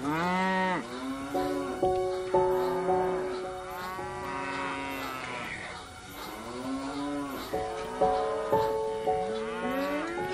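Cattle mooing repeatedly, several long, loud lowing calls one after another, close by, with a few short pauses between them.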